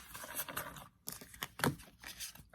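A tall tarot card deck is shuffled by hand, giving a rough stream of riffling, rustling and flapping card sounds with brief gaps, close up and fairly quiet, with no talking.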